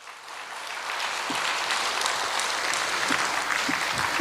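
Steady audience applause for Representative Kwon Seong-dong at an invited lecture seminar, a dense wash of many hands clapping that holds evenly throughout without talk.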